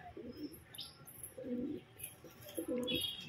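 A mated pair of pigeons, a green male with red borders and a hen, coo in three distinct bursts with faint chirps and soft rustling between them, close and clear.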